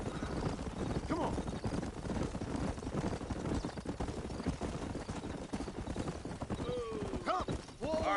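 Horse hooves clip-clop steadily on the ground in the Red Dead Redemption video game, a continuous rhythmic clatter mixed with a few neighs and snorts toward the end.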